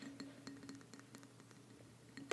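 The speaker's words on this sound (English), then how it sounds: "they have so many different sounds to them based on where you tap on the glass, and even if the lid is on" Fingertips tap on a glass candle jar from a fall candle, producing faint, quick, light clinks spread across a quiet moment, ending with a slightly louder tap.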